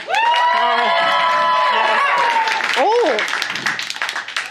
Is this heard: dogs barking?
no